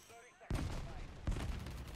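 A weapon explosion in Modern Warfare III, two heavy booming blasts close together with long rumbling tails, loud and close, over faint game background noise.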